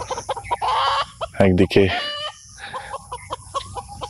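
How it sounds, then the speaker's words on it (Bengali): Chickens clucking on a rural path amid green countryside on a drizzly day, a few close, repeated clucks with a rooster-like call, while a person speaks briefly over them. "মুরগির আওয়াজ"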